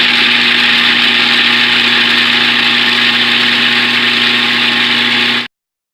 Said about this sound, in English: I got out my handy dandy food processor